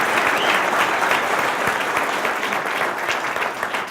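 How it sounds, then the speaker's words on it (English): Steady, dense round of applause from a morning corporate event audience, loud and sustained with no talking over it. "So, by a round of applause,"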